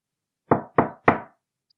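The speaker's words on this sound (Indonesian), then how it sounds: "di gubuk mungil yang ditinggali Nyonya Lamp, mereka mengetuk pintu" Three firm, evenly spaced knocks on the door of a small cottage, close and loud, with silence around them.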